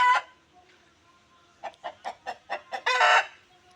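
A hen clucks in a quick run of about seven short, even clucks while laying an egg, then breaks into a louder drawn-out squawk, close by with no talking.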